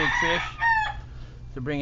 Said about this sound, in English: Those roosters are crowing right behind me.